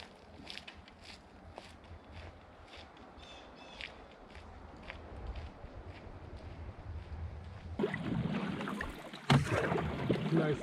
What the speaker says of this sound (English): Nice to be paddling a boat again